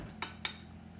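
A spoon taps twice against a bowl of hot sauce mixed with butter and honey, making two quick, bright clinks in close succession.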